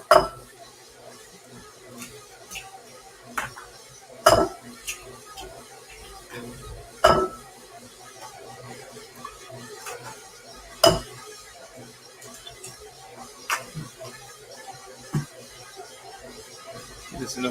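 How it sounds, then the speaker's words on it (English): Four eggs cracked into a mixing bowl while baking, sharp isolated taps and clinks on the bowl rim spaced a few seconds apart, with a mixer and kitchen clatter quietly underneath. "While that's mixing, I will crack 4 eggs into this bowl."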